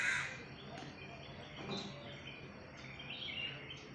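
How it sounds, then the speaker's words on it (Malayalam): Birds call outdoors, a few harsh caws and scattered chirps over a quiet, airy background. "കിളികളുടെ കളകളം"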